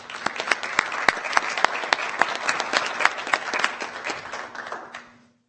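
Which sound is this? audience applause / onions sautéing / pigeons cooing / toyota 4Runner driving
audience applause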